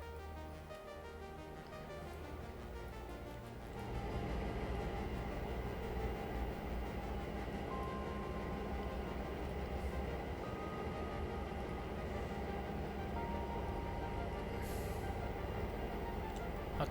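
A train rumbles past in the railroad game Railroader, a steady, dense roar of rolling wagons that swells after a few seconds and holds, with no talking.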